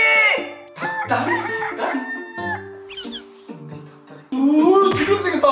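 A rooster crows loudly and close up in several long, wavering calls separated by short pauses, with clucking mixed in and a final strong crow at the end.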